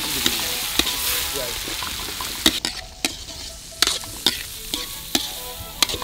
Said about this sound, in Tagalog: Sa isang malaking kawa ay naglagay ng butter, bawang, sibuyas at igigisa.